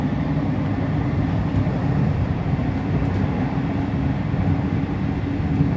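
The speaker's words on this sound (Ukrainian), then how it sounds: "Електрички сучасні. Сучасна електричка." Modern electric commuter train in Italy, a steady loud rumble and hum of the carriages rolling along the rails, continuous and close with no voices.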